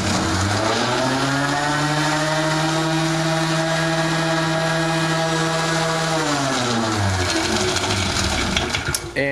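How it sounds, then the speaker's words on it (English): A dual action sander clamped in a vise runs with a loud, steady motor whine, then winds down in pitch and stops near the end, with no speech over it. "I got the sander mounted in the vise"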